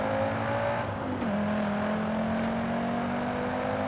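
A Ford Focus RS engine rumbling steadily nearby, its tone dipping slightly once, with a constant droning hum and no voices.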